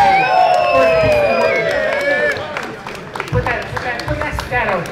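A crowd cheers, whistles and shouts for a breakdancer at a Bay Area breaking crew's anniversary celebration, loud and sustained throughout with voices and a host's calls mixed in.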